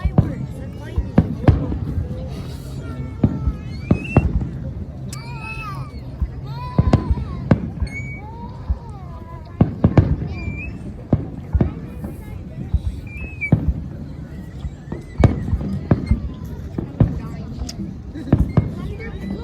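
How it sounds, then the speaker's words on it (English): Fourth of July fireworks display in Duluth, Minnesota, with sharp booms and crackling bursts at irregular intervals, some near and loud, others distant, while people talk and thunder rumbles during a storm. "The fireworks."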